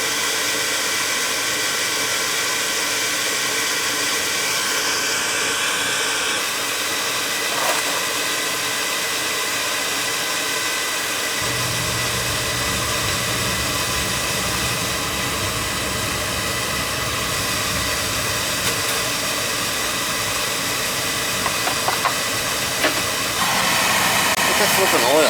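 An old Beckett oil burner runs with a steady, airy, broadband roar like a blower, which deepens and grows heavier partway through and carries on continuously, with faint clicks and knocks near the end.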